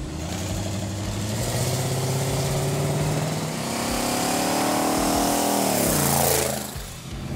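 Supercharger blower whine from a gasser wagon's engine, a loud rising and falling mechanical whine over a rumbling exhaust as the engine revs up and eases back, close and alone.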